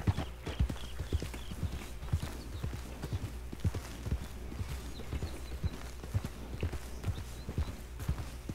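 Steady clip-clop of horse hooves walking at an even rhythm in Red Dead Redemption, moderately close, over a constant low background hum, with a faint whinny-like sound.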